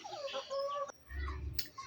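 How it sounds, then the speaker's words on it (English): Chickens cluck at feeding time in an African village home compound, several birds calling close by in short, irregular bursts over a quiet outdoor background. "you'll always find chicken in the compound. So this is feeding time."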